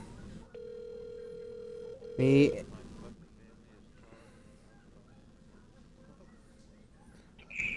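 A telephone call dials out, first a steady tone, then a brief burst of dialing tones. A quiet ringing follows and repeats faintly under low background noise.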